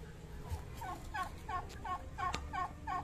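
Turkeys gobble in a steady series of short bubbling calls, about two per second, over a low background rumble.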